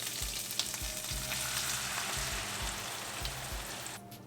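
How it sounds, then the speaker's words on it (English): Blended onion paste fries in a pan for Shahi Paneer, a close steady sizzle with rhythmic stirring scrapes every half second or so, cutting off just before the end. "Next, I'll add our onion paste that we made in the blender."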